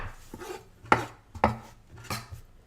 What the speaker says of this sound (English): So I'm going to do a little bit of chopping if you don't mind.